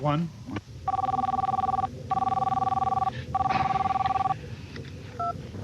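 A telephone ringing during a call: three long electronic trills of equal length separated by short pauses, followed by a brief fainter chirp, with a voice and background noise beneath.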